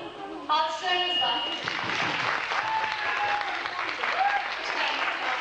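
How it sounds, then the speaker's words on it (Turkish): Steady applause from an audience at a concert program as a guest is called onstage, continuous clapping mixed with crowd noise and some voices, after a brief musical flourish at the start. "Önce Kenan Bey, sizi sahneye alalım. Alkışlarınızla"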